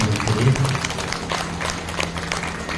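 A crowd at a Shrimad Bhagwat Katha religious gathering in Mayur Vihar Phase 2 gives a burst of fairly loud, close applause, a dense patter of claps over a low steady hum from the sound system.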